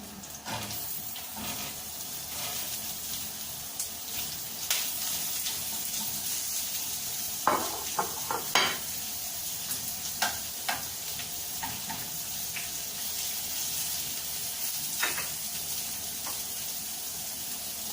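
Onions sizzle and fry steadily in a pan for Sri Lankan tempered dry fish, a constant close crackling hiss broken by occasional clinks and stirring knocks.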